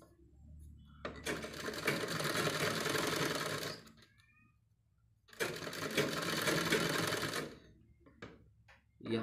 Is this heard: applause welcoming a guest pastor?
no